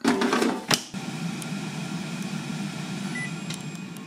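A COSORI air fryer runs during preheating, giving off a steady whirring fan hum after a brief clatter and click at the start.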